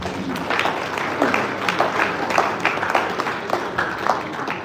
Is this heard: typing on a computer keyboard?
no